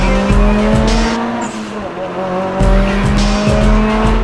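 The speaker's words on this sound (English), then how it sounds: "You're doing a brake test to figure that out." A modified performance car braking hard during a high-speed brake test, with a loud sustained engine drone and repeated tire squeal and skid bursts.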